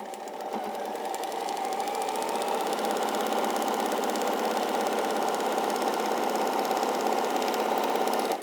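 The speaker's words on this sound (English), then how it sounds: "you put that through the sewing machine" A sewing machine runs steadily for several seconds, a fast, even mechanical whirring and rattling with no pauses.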